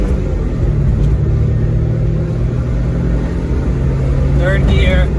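A Kei van engine pulls at wide open throttle in third gear, a loud, steady in-cabin drone and rumble that rises slightly toward the end while a person talks over it.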